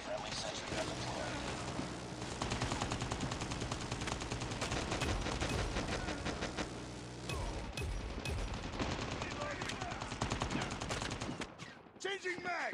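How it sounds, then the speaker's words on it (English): A sentry gun in Call of Duty Mobile fires steady automatic bursts, heard faintly within continuous game gunfire and battle noise, while voices call out. "Friendly sentry gun deployed."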